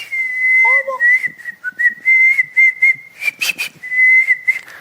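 Thin, high lip whistling, resonating inside the mouth: a sustained steady tone broken into short phrases with small pitch slides, close and clear with no talking.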